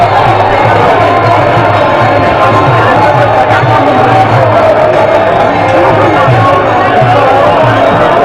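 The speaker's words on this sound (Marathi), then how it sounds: "बघू शकता मित्रांनो कशी गर्दी मित्रांनो रोड सारा जागा नाही एवढी गर्दी" A huge crowd of devotees packs the road at Alandi on Kartiki Ekadashi, a steady dense hubbub of voices and shouts filling the whole stretch at close range with no pause.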